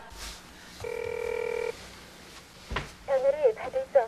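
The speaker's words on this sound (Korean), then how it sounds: "은지야, 작은 오빠한테 전화 좀 해봐라" A steady electronic telephone ringback tone plays for under a second, followed by a short thump and then a burst of chirpy, warbling electronic sound.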